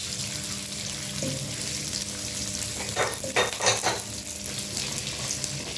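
Broccoli stems are stir-fried in a pan, giving a steady sizzle with a few sharper scraping stirs midway through.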